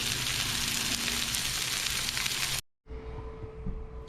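Seasoned potato wedges fry on a Blackstone griddle over low heat, giving a steady close sizzling hiss that cuts out abruptly, then resumes more quietly with a faint hum.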